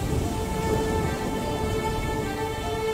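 Steady, heavy rain pours down outside a home in a film scene, a continuous close hiss with no pauses and a faint tonal hum beneath it.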